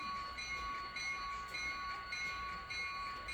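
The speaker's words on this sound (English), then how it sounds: "just running some trains a little here and there." Model trains run steadily on a home railroad layout, a continuous close hum and rumble with faint tonal whine and no talking.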